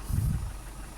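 A Ford Ranger with a faulty ECU and throttle circuit codes fires up with a short low rumble, then settles into a quieter, steady idle.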